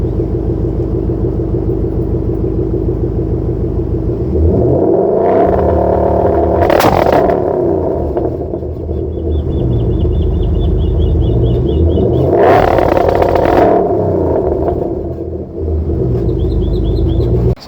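Drag car with an MSD two-step launch control, engine held at a steady loud revving limit that rattles and pops, two surges of heavier rev with bursts of noise, close by, no talk.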